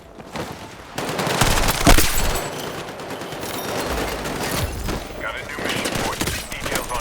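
Rapid automatic gunfire in the Battlefield 6 RedSec battle royale, sustained bursts of shots from an SMG-type weapon with someone talking over the action.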